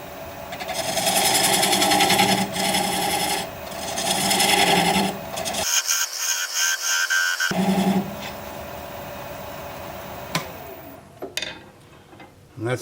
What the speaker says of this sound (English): Now I'm going to switch to a 3/8 inch gouge and get in here a little closer.